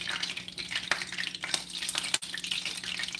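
Butter with water in it splatters in a hot frying pan, a quiet, steady sizzle broken by irregular sharp pops and spits, with faint stirring clatter.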